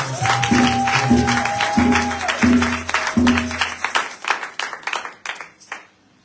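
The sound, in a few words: congregation applauding at a prayer night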